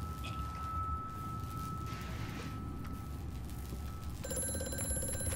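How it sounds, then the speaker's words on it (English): A telephone bell rings in the horror game Amnesia: A Machine for Pigs, a thin steady tone over a rumbling drone, with a brighter ringing burst near the end. "Oh, I'm getting phone calls again."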